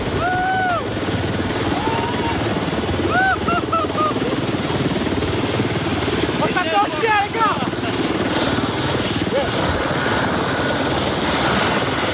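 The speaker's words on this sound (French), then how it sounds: "lorsque l'hélicoptère va redécoller" A helicopter's loud, steady rotor roar as it takes off from a mountain summit in French Polynesia, with whistling birdlike chirps and brief voices mixed in over the engine drone.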